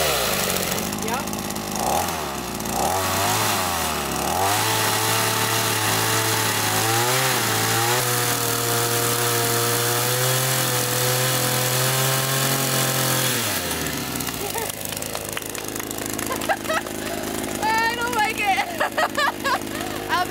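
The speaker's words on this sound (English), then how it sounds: "It's easier to go with the chainsaw." A chainsaw runs through wood outdoors at a property in northern Italy, its engine droning loud and steady for about ten seconds before cutting off, with voices and rustling afterward.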